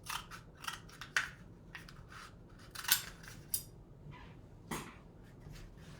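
Scissors snip through a cardboard paper cylinder in a series of several short, crisp cuts spread irregularly over a few seconds, close and moderately loud, with no talking.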